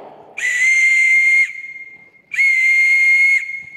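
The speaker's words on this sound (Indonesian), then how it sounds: "Peluit ya?" A whistle blows two long, steady, shrill blasts close by, separated by a short pause.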